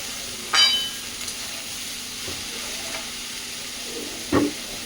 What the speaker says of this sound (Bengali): আর তেল দিয়ে চাল কুমড়োগুলো দিয়ে দিচ্ছি